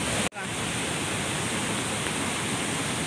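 A waterfall at Khopoli pours with strong force, a loud continuous broadband roar of rushing water filling the scene after a brief dropout at the start.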